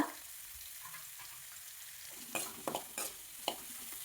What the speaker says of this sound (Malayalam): സവാള ഒന്ന് വാടി വരുന്നത് വരെ വഴറ്റാം.